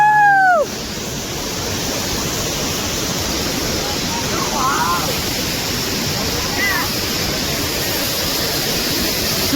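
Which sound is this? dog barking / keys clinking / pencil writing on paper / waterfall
waterfall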